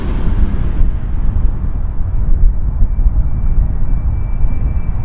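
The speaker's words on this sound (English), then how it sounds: "We got a little business jet coming over my head, you'll hear that." A small business jet passes over near Toronto Pearson Airport, a loud, steady engine roar filling the whole stretch with a broad rumbling wash.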